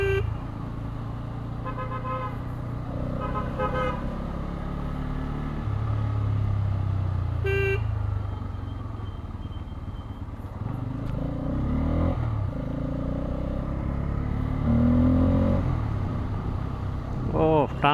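A Bajaj Pulsar N250 motorcycle ridden through traffic in the rain, its engine droning steadily with loud horn toots from surrounding vehicles and a voice talking over it.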